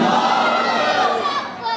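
Crowd shouting a slogan in unison at a religious gathering: a dense, loud wall of many voices held for nearly two seconds, close and energetic.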